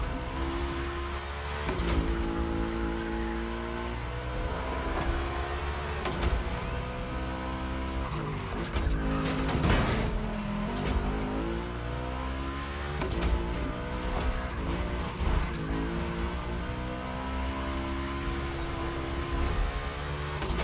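Volkswagen race cars in The Crew Motorfest roar continuously around a track, engines revving and shifting through gears with layered overlapping tones, occasional sharp surges and tyre noise, close and loud throughout without talk.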